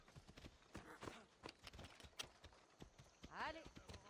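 Horse hoofbeats clop rhythmically as a mount is ridden in Assassin's Creed Odyssey, moderately close and steady, mixed with game sounds and speech over them.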